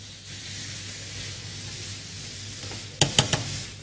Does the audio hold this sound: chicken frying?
yes